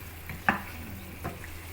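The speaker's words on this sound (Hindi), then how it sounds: "ये अब भून रहा है" Mughlai chicken masala fries in a pan with a steady, close sizzle, broken by a sharp clank of stirring and a softer scrape a moment later.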